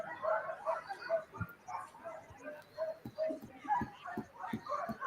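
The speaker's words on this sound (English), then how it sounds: "I know you hear the barking" Sled dogs at the Iditarod ceremonial start bark and yip excitedly, repeated sharp barks and whimpers from several dogs at close to mid distance amid a busy outdoor crowd.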